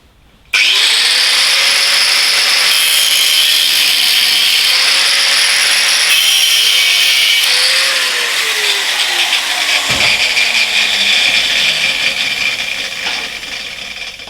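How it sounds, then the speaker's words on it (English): An angle grinder grinds metal welds on a part clamped in a vise, starting abruptly and running loud and close as a harsh sustained roar, its pitch sliding up and down with the load before easing off near the end. "I do try to always do the grinding in the vise"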